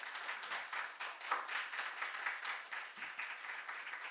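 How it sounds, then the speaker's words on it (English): A round of applause from an audience at a museum book talk, a steady, dense wash of clapping that holds at an even moderate level throughout. "I first wanted to give you a round of applause on what you're doing."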